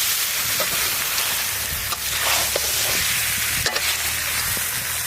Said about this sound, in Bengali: এবার আমরা ধনে পাতাটা দিয়ে আরেকটু কষিয়ে নেব, কুচনো ধনে পাতা।